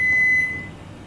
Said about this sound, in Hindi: अलार्म खत्म जैसे ही होगा, आपका 10 बीप्स के साथ वो आपको नोटिफिकेशन दे देगा।